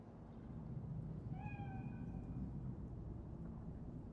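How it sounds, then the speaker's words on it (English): A single short cat meow in the video game Cyberpunk 2077, rising and falling over a steady low rumbling game ambience, with no speech. "Chill, just a cat."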